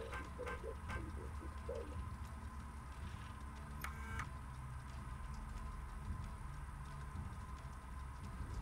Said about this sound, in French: Heureusement que les imprimantes, ça existe.